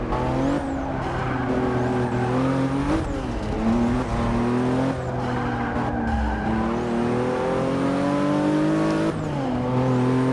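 Race cars in the Forza 6 racing game accelerate and hold a steady, loud engine drone with rising and falling pitch sweeps through gear changes and tight turns, continuous for the whole stretch with no talk.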